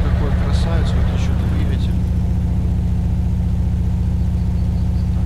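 A Mercedes-Benz LP-331 truck engine in a truck-driving video game idles with a low, steady rumble, loud and close, while a person talks over it at the start.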